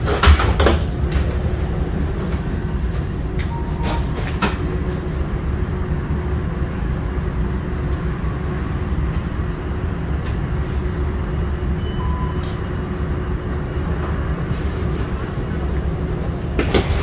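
Steady low rumble of an Alstom Citadis tram running between Maashaven and Kromme Zandweg in the Netherlands, with rattles and brief clicks over a constant hum, continuous and fairly loud throughout.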